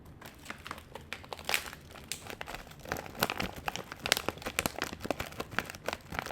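A bag of freeze-dried candy crinkles up close in irregular bursts of crisp, crackling plastic, continuous and fairly soft, with no voices.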